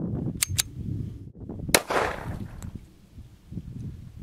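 Regent R200S 1911 handgun firing Corbon Powerball ammo: a few sharp, loud shots spaced irregularly, with outdoor rumble and handling noise between them.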